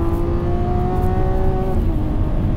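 A Lamborghini Aventador Ultimae with its V12 engine accelerates hard toward high revs, giving a loud, close, continuous rising engine howl with a strong tonal whine throughout.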